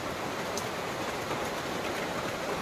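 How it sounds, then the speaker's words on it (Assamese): Rain falls steadily in a dry rural farming area, a dense, even hiss of drops with no breaks, close and moderately loud, and no voices. "মনটো ভাল লাগিছে বৰষুণ দিয়াৰ বাবে।"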